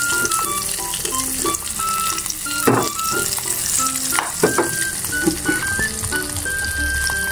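Hotdog frying in a pan, a steady oily sizzle with sharp spits and pops scattered through, plus a few louder crackling bursts up close.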